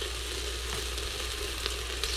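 Beef sizzling as it browns in olive oil in a pan, a steady close crackling hiss with faint sharper pops throughout, no talking.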